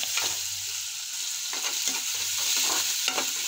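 Tomatoes hit onions already frying in a pan, a loud, close, continuous sizzle with scraping stirs coming at intervals and no speech over it.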